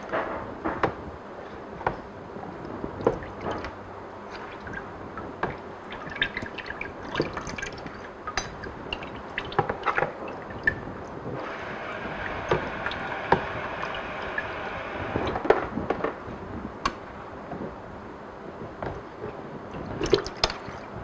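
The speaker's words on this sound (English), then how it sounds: "we can start putting the curds in the basket" Fresh feta cheese curds spooned into a draining basket, wet squishing and splashing with steady dripping whey, close up, continuous for about twenty seconds without talk.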